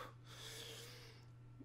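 A man imitates a drunk person's heavy, rasping breath, a quiet snorting exhale that fades out over a low steady hum.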